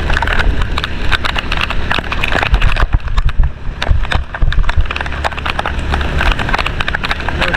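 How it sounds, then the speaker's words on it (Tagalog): Heavy typhoon rain in Bicol pounds down on the road in Barangay Diangdang, a dense, loud, continuous patter with irregular knocks and splashes, close by and with no voices over it. "Grabe yung ulan, oo."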